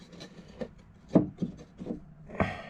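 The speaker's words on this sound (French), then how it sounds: "mon petit morceau, hop, qui va venir dedans comme ça, qui va s'emboîter" A few light wooden knocks and scraping rubs as a jigsaw-cut piece of wood lining is slotted into place, irregular taps ending with a firmer knock.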